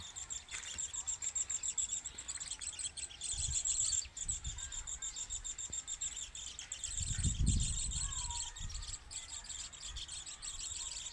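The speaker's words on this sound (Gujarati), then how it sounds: "જો બીજું ચકલિયું બોલે, સાંભળો તમે." Constant high insect trilling fills the air, with sparrows chirping repeatedly in the background and a few low thumps.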